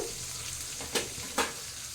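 Garlic frying in a pan for a raw mango dish, a low steady sizzle broken by two brief louder bursts of hiss as the pan is stirred, no talking.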